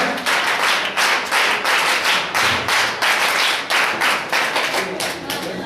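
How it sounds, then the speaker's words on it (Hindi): A conference audience in Mumbai claps loudly and steadily, with rhythmic bursts of applause that swell and fade in regular waves. "जिनको डॉक्टर सुधा कंकारिया जी, उनका जोरदार तालियों से नाम के लिए अभिनंदन कीजिए।"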